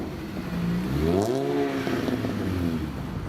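An R53 Mini Cooper S engine revs up and settles, a short rising and falling engine note heard close and fairly loud with no talking.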